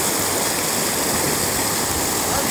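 A rushing stream swollen after rain, a loud, steady wash of flowing water with a constant roar and no pauses, close by, with no voices.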